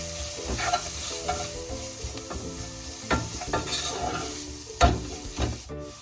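Garlic ginger paste with salt, chilli and turmeric sautéing in a pan, a continuous close sizzle broken by repeated scraping stirs, with no voices.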